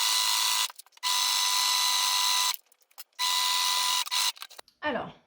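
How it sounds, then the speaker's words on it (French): A sewing machine running straight stitches along the top of a fabric Christmas stocking, buzzing in steady bursts separated by short pauses, with a brief rasp at the end. "on va passer un point de couture au point droit à environ 1 cm"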